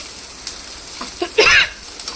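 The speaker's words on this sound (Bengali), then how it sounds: "পেঁয়াজ ভাজাটা একটু লাল হয়ে এলে" Onions frying in a pan while making chicken bhuna, a short burst of sizzling with a brief stirring sound, close and fairly loud.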